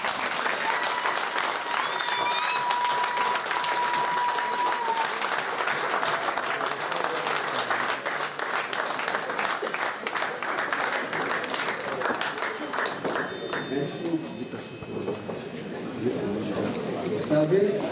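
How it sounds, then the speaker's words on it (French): Sustained applause from a large audience giving a standing ovation for Paul Biya at a formal ceremony, dense steady clapping filling the hall throughout with a slight swell near the end. "je demande que vous fassiez une standing ovation"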